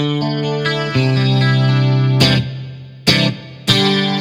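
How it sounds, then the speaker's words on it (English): Electric guitar chords ring with a lush, washy plate reverb tail from a PCM 70 rack unit, punctuated by a few sharp strummed accents that bloom and decay into the space. "I'm going to turn on the PCM 70 reverb."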